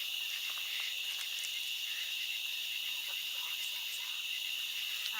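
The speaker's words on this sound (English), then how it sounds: "Yes, there are a lot of frogs" A dense chorus of frogs and insects trills at night in the woods near Alton Bridge, a constant high, buzzing wall of calls, with faint voices now and then.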